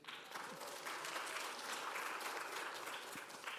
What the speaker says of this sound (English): Can we give a round of applause for Stan?